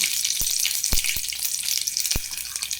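Urad dal and spices are crackling in hot oil for a Goan potato dish: a bright, continuous sizzle with sharp spattering pops scattered throughout, close and fairly loud, with no talking.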